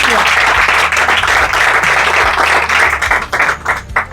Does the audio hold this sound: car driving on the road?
no